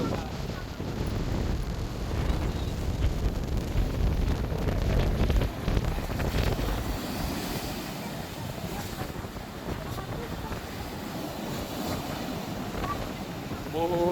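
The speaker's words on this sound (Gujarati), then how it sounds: "બોટ ચાલુ થઈ ગઈ ને." A boat running on the open sea, its drone buried under heavy wind buffeting and rushing surf throughout, with faint voices talking in the background.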